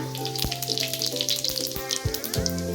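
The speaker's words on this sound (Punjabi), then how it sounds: "ਸਾਡਾ ਤੇਲ ਜਿਹੜਾ ਜੀ ਗਰਮ ਹੋ ਚੁੱਕਿਆ ਹੈ ਜੀ ਹੁਣ ਅਸੀਂ ਇਹਦੇ ਵਿੱਚ ਐਡ ਕਰਦੇ ਆ ਜੀ ਜੀਰਾ" Steady crackling sizzle of cumin seeds frying in hot oil, with a faint tonal hum underneath.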